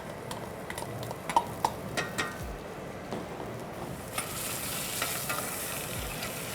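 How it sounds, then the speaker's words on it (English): Chopped onion sizzles in hot olive oil in a pan, a steady close crackle with light scraping and ticking from stirring running throughout. "that's sizzling away there"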